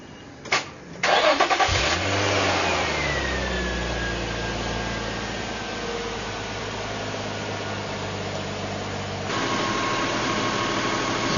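A first-generation Infiniti G35 engine cranks briefly and catches, then settles into a smooth idle with a faint whine. Its revs rise slightly again toward the end, with no talking.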